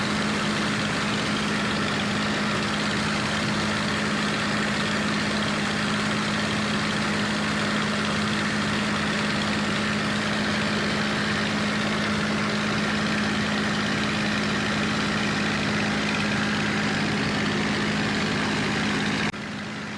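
Spitfire aircraft engine holding near an airfield, a steady loud droning hum with a strong low tone throughout, heard alone with no voices.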